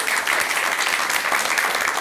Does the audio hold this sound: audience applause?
yes